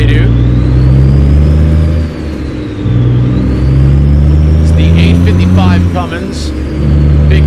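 A Cummins Big Cam truck engine in American Truck Simulator drones loud and close, a deep steady rumble that rises and falls as it revs, with a person talking over it.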